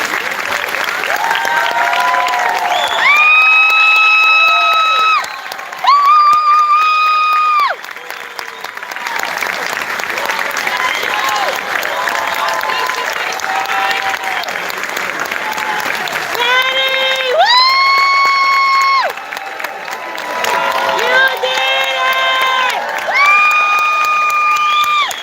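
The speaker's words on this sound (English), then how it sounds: "Please give a round of applause to the graduates." Loud, sustained applause from an audience at a Michael Academy graduation ceremony, with cheering, whoops and children's shouts rising and falling throughout.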